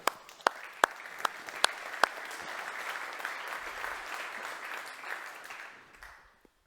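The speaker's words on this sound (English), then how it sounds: "you deserve a big applause for yourself" Audience applause at a conference final event fills the room, opening with a few sharp individual claps before swelling into steady, moderately distant clapping that fades out near the end.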